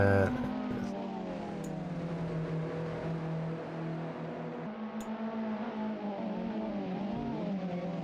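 Alfa Romeo Giulietta TCR touring cars in a UK championship race, engines droning steadily through a first-corner battle, several cars overlapping at close range with shifting pitch and no talk.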